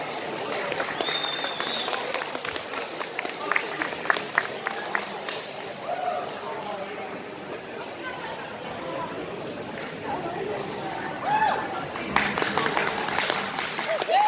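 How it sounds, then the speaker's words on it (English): An audience claps for a cosplay contestant at a cosplay competition, a steady spread of applause mixed with crowd chatter, swelling again toward the end. "So big round of applause for Emma as Other Mother from Coraline."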